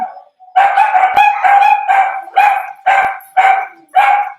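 Dogs bark nearby in a rapid string of about eight loud, sharp barks with brief gaps between them, some drawn out almost into yelps, with no talking.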